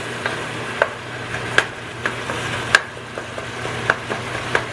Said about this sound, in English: Make sure our meat gets all cooked up.